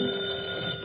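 A telephone rings in an old-time radio comedy set in a tavern, a short burst of steady electric bell ringing, close and fairly loud, with no talk.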